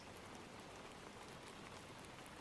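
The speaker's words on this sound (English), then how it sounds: "the soft patter of the rain on the window is a lulling rhythm that brings comfort to your mind" Rain patters steadily against a train window, a dense, even wash of soft droplets with no voices.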